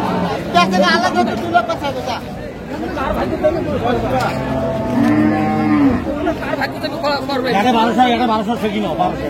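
Cattle moo loudly and repeatedly amid a busy crowd at a livestock market in Dinajpur, Bangladesh, where dairy cows and calves are being sold, with people chattering and talking throughout.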